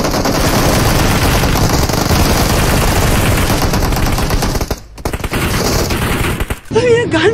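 Rapid automatic gunfire rattles through a battle royale video game match, loud and sustained bursts that briefly cut out twice near the end, with a voice speaking in the background.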